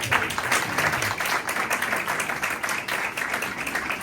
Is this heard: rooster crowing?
no